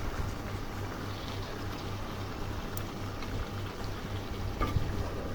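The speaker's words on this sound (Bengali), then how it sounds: "তো এই যে সব মাংস দিয়ে দিছি, এখন ভালো করে কষিয়ে নিব।" Meat sizzles and bubbles steadily in a pot as it is browned for a curry, a continuous moderate frying hiss with a low background hum and no talking.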